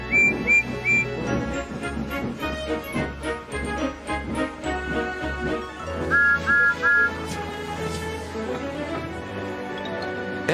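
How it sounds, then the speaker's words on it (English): Steam engine Gordon's whistle in a Roblox remake of Thomas, short tonal whistle blasts sounding in pairs and triplets over a background of music. "Gordon whistled as he approached the station."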